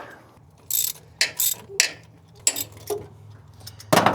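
Tools work at the fuel pump on a 1967 Ford F-100 that has sat for years, a string of short metallic ratchet clicks and clanks in irregular bursts, close and alone.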